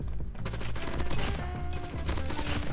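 Rapid hip-fire gunshots in Call of Duty Mobile, a loud, close, continuous burst of automatic fire with little pause, no talk over it.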